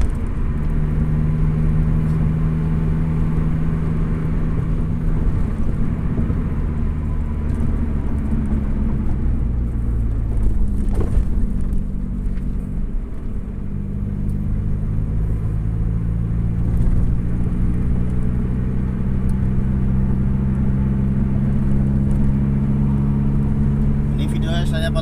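A car cruises along a wide, smooth road at about 80 km per hour on a drive from Pemalang to Purbalingga, its steady engine and road rumble continuous and close throughout, with a voice talking over it.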